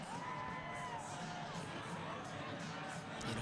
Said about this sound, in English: Trackside crowd making noise in the backstretch